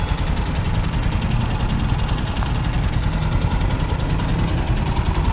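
An Athensville 250 motorcycle engine idling, a loud steady low rumble with an even, continuous throb close by and no breaks.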